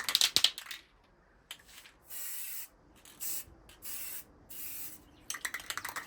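Rattling and clicks of a spray can, then several short hissing bursts of spray paint applied in a light coat, separated by brief pauses, close and moderately loud.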